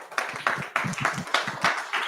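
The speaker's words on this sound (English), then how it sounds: "So just a round of applause to all of you guys for that." A crowd claps in a steady burst of applause, close and moderately loud, continuing for a couple of seconds with no talking.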